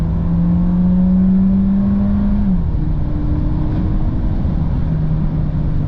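A 2022 Seat Ibiza FR hot hatch engine drones steadily while driving, with a low, even hum that dips slightly in pitch partway through, heard alone with no talking.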